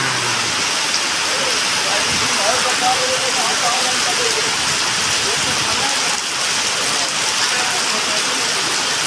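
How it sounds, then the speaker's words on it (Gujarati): Steady rain falls in Rajkot, a dense continuous hiss that stays loud and even throughout, with faint voices and some low rumble underneath. "વરસાદ આવ્યો આજે"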